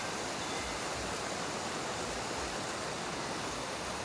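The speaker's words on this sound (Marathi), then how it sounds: "आता पाणी वाहत आहे" Water flowing on the rainy Ratangad trek in the Sahyadri hills, a dense continuous broadband rush like a stream or small waterfall, steady and fairly loud with no voices.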